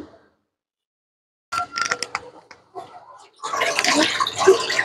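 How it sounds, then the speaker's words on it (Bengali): Running water splashes as vegetables, including capsicum, are washed by hand for a chicken vegetable dish. Brief rinsing sounds come first, then a longer close, bright wash of water. "সবজিটা আমরা খুব সুন্দর করে ধুয়ে লইতেছি।"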